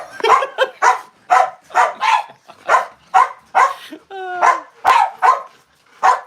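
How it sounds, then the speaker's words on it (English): Charlie, a giant dog, barks in repeated, evenly spaced loud woofs close by, about a dozen over several seconds, with a brief whine or squeak between them. "You're a giant dog."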